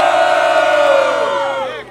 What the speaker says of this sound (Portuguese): quem acha que DNA merece ir pra final, faz barulho